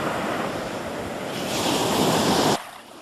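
Surf washes onto an empty, soft-sand beach in the Exumas, a steady rushing hiss of waves that swells with a gust of wind noise on the microphone, then drops away abruptly.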